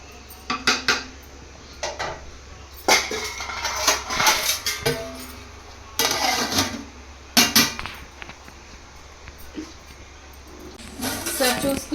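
A spoon stirs a pot of chicken pulao made with very small-grained rice before a lid goes on. Loud metallic scraping and clanking come in repeated close bursts, separated by quieter pauses, with possible low talk between them.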